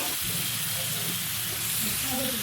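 Chicken curry pieces hitting hot oil with browned turmeric in a village kitchen pan, a steady close sizzle and hiss running through the whole stretch with faint stirring underneath.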